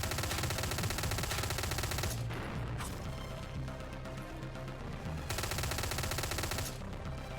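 Sustained enemy gunfire in a shooting video game, dense rapid automatic shots filling the soundscape, easing briefly in the middle before another loud continuous burst resumes.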